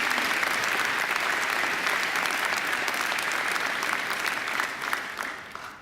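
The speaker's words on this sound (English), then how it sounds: "I think Rob deserves another great round of applause for a great occasional address." Sustained applause from a large audience at a university graduation ceremony, after an occasional address; loud, dense clapping that carries steadily throughout before thinning slightly at the end.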